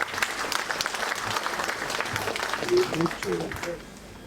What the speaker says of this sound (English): I want you all to give yourself a resounding round of applause for this man